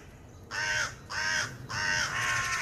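Crows caw around a tree, three loud, harsh calls in a row with short gaps between them, close by over quiet outdoor background.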